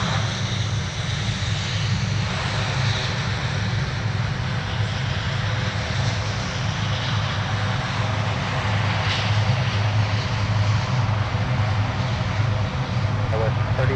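Aircraft engines roar steadily at Minneapolis–Saint Paul airport near the runway, a loud, continuous rumble without pause.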